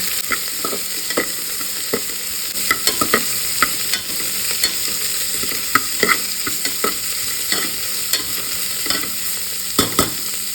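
Cut raw mango fries in oil for mango chitranna, a constant close sizzle broken by frequent spatula stirs and scraping clicks against the pan, with no talking.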